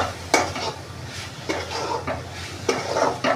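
Grated fresh coconut and sugar stirred and fried in a pan, with repeated close scrapes of a spoon against the pan over a steady sizzle and no talking.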